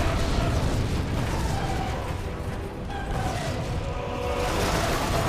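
A dense, continuous roar of rocket launcher blasts fills Resident Evil 2, with booming, rumbling explosions washing together loudly and evenly throughout with no clear breaks.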